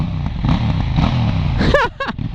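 A KTM 790 Duke motorcycle engine idles and rumbles nearby, then a few sharp metallic whines cut in near the end as the sound drops off.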